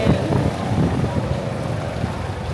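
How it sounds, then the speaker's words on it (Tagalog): Strong wind roars and buffets the microphone aboard a boat heading out to sea toward the Islas de Gigantes off Iloilo, a steady loud rush with rumbling low gusts throughout. "grabe yung hangin."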